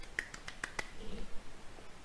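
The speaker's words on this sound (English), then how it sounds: "Golf clap, golf clap," A handful of soft, sparse golf claps, four or five sharp isolated hits spaced unevenly over the first second, then near quiet with faint background murmur.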